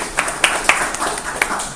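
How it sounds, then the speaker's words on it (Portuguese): A few sharp handclaps in a classroom, sparse and irregular, close and moderately loud. "Palmas."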